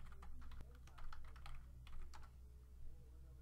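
Fingers type a username and password on a computer keyboard in quick, soft clusters of keystrokes over a low hum, faint and close.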